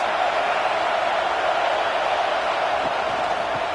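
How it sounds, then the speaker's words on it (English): Crowd at a college football stadium for Wyoming at NC State, a steady, loud, broad roar of massed voices holding constant throughout, with no distinct individual calls rising above it. "This crowd trying to make life miserable for this offense."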